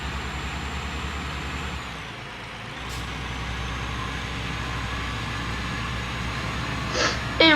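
A truck in Euro Truck Simulator 2 accelerates with a steady low engine drone, a hiss of air release midway and a short burst of mechanical noise near the end, no voices.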